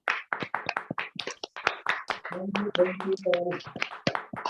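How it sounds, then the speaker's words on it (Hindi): Online meeting participants clapping after unmuting, scattered hand claps mixed with overlapping voices, fairly faint and uneven as if coming through several microphones. "सारे लोगों को बोलूंगा कि अनम्यूट करके एक बार जोरदार ताली से स्वागत करेंगे"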